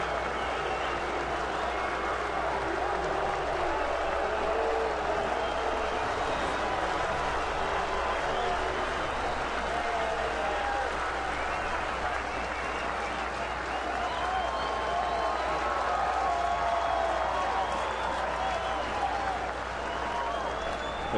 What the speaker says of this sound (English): you can tell by the applause that Mike Sweeney still has a lot of fans here in Kansas City